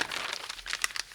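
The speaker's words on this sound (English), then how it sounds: "fold your pattern piece on the dart tip, close the dart going towards the armhole, tape it in place" A paper sewing pattern piece being folded, giving close, quick crinkling and rustling with a few sharper crackles over about a second.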